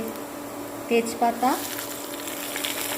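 Bay leaves and a cut dried red chili sizzling in hot oil alongside chopped coconut for khichuri, a steady moderate hiss with a brief voice heard partway through.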